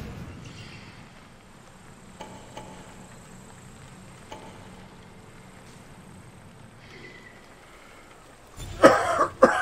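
A person coughs once, short and loud, near the end after a long stretch of quiet game ambience with faint ticks.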